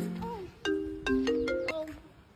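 A mobile phone rings with a short melodic ringtone, a few stepped tones at close range over a quiet room, while voices talk around it in a Nigerian comedy skit.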